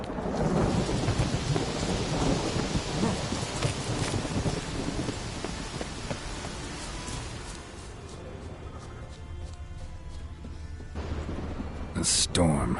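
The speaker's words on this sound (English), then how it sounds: "A storm, damn it." Loud, continuous thunderstorm in The Witcher 3: deep rolling thunder over steady heavy rain, easing slightly midway before a sharp crack near the end.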